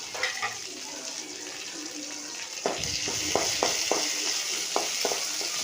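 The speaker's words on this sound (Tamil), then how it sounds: "அதையும் போட்டு அப்படியே எண்ணெயில் வதக்கலாம்." Crushed garlic and curry leaves fry in oil for a pepper rasam, a soft continuous sizzle joined by a louder hiss and a run of quick scraping stirs in the second half.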